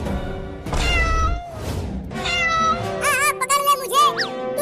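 A cartoon cat meows repeatedly, with drawn-out, bending cries over a busy backdrop of music and effects, loud and close.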